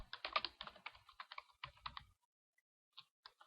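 Close, quiet clicking of keys on a computer keyboard in a rapid typing burst, then a pause and a few isolated taps.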